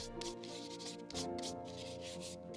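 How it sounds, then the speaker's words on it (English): Close, steady scratchy rubbing of sandpaper on a coated 3D-printed plant pot, strokes back and forth with faint tonal hum in the background. "I'm sanding after the first layer is dry."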